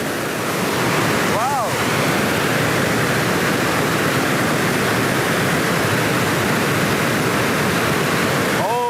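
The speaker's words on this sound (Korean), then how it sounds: "마치 폭포 속에 있는 듯 그 폭포수의 생생함을 느낄 수 있습니다." Rushing water at the Rhine Falls in Schaffhausen makes a dense, continuous roar heard from close by, with brief voice-like sounds near the start and end.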